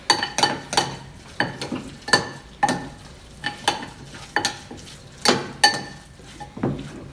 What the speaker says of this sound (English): And you're just going to mix this all together.